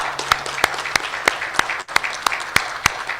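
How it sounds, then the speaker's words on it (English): An audience at a chiefs' meeting applauds with scattered, individually distinct claps landing in a loose rhythm, moderately loud in the room, with a short dip partway through. "Can you join me as I give them a round of applause?"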